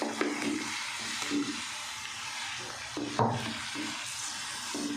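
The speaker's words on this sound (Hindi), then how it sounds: "चिकन को अच्छे से भुनाई कर लेंगे।" Chicken pieces frying with ginger and garlic in a pot for a korma, a steady sizzle with occasional scraping stirs, moderately close and without talk.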